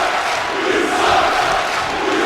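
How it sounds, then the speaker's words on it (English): A wrestling crowd at an MPWF event booing a wrestler, a dense, steady roar of many voices filling the arena continuously. "And this crowd here booing the hell out of Kivo."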